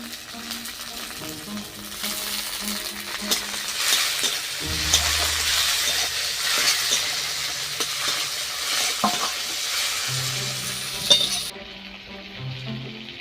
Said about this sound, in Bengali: দিয়ে দেবো টমেটো কুচি,